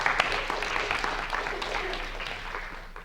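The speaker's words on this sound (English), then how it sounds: "Let's give a warm round of applause for Erika." An audience at a math teachers' Ignite talk event breaks into applause for a speaker, a dense, even wash of clapping that fades slightly over a few seconds with a faint voice under it.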